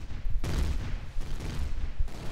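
Repeated weapon fire from a CX23-Strike Fighter in the space survival game Empyrion Galactic Survival, rendered as heavy booming bursts in a dense barrage that starts loud at about half a second and keeps pounding with recurring impacts.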